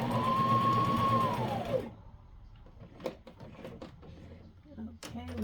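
Sewing machine running a straight stitch on a wool diaper cover, a steady mechanical whir for under two seconds that winds down and stops, followed by scattered soft clicks and handling taps.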